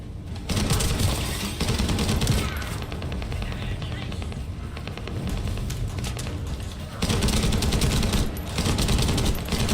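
Sustained heavy gunfire in the shooter game The First Descendant, loud and dense bursts running almost the whole stretch, with brief dips in intensity before the firing surges again.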